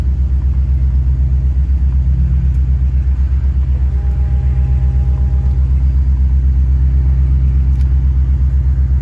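A steady electric brake vacuum pump hum drones under a low engine rumble during a cold start, with a faint whine joining briefly midway; continuous and fairly loud, no voices.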